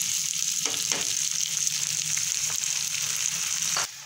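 Tomatoes and green chilies fry in a pan for a breakfast omelet, giving a steady, close hiss of sizzling oil with a few faint taps of stirring.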